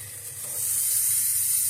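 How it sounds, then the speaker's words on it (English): Steady hissing sizzle of tri-tip steak cooking over a fire on an offset smoker, a bright continuous crackle-free hiss with a low hum underneath. "you can hear it sizzling"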